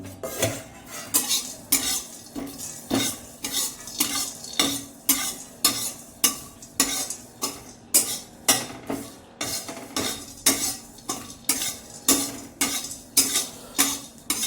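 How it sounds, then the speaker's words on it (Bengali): A spatula scrapes and clatters rhythmically against a dry wok as whole spices are dry-roasted, with regular strokes about twice a second, loud and close, with no talking. "মশলা কড়াইতে দেওয়ার সাথে সাথে এরকমভাবে খুন্তি দিয়ে নাড়াবে, নাহলে কিন্তু মশলা পুড়ে যাবে।"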